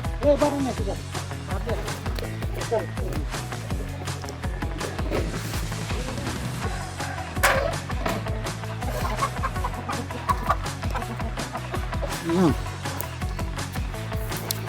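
Indigenous Meghalaya chickens cluck and squawk in agitated bursts as they are chased and caught near a shed, a busy outdoor din with people talking over the flock throughout.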